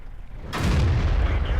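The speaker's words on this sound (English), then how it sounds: "Oh, I bounced that shell. See, it hit the bouncy part of my turret." Tank shell striking and bouncing off a turret in World of Tanks, a sudden loud booming impact after a short quiet lead-in, followed by a sustained rumbling roar.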